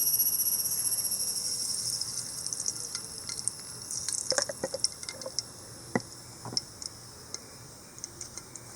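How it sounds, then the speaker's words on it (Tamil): Ghee is poured into a hot pressure cooker, starting a faint sizzle and a scattering of small ticks and pops close by that thin out over several seconds. "நெய் விட்டுடலாம்."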